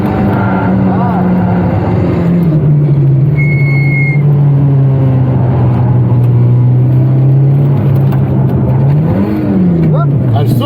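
Peugeot 306 S16 accelerating hard through corners, its engine droning loud and close with pitch rising and dipping through gear changes, plus a brief tire squeal, while people talk over it.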